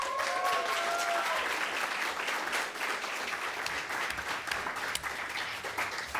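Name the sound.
long audience applause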